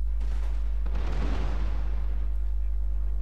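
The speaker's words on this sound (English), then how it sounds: "some men are firing in the monk units" A volley of matchlock guns fires in Total War: Shogun 2 as matchlock warrior monks and heavy gunners trade shots, a loud booming blast swelling and rolling away beneath a constant low hum.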